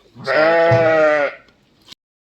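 A single loud, close sheep bleat lasts about a second at feeding time, followed by a brief faint sound before silence.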